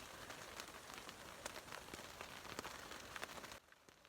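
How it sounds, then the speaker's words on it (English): Steady rain patters continuously on a surface at a wilderness campsite in Canada, with scattered louder drops, then drops off abruptly near the end. "It's raining."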